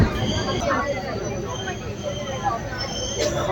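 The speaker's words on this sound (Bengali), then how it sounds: "প্রায় 25 মিনিট লেটে ঢুকলো মাতার এক্সপ্রেস" Mather Express pulling into a station about 25 minutes late, a steady broadband rumble of train and platform noise with a brief squeal near the end, crowd babble mixed in.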